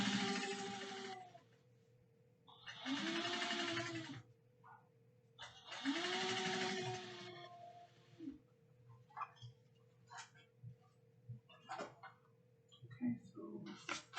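A sewing machine stitches a seam on a tote bag in three loud bursts of several seconds each, followed by scattered soft clicks and handling noises in a quiet room.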